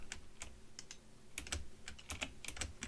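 Faint, quick keyboard typing in the video game Parkour Paradise 2, an irregular patter of key clicks with short bursts and gaps, alone without talk.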